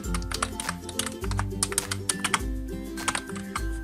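Typing on a soft Bluetooth keyboard paired with a tablet, a rapid irregular run of light, close key taps over a low steady hum.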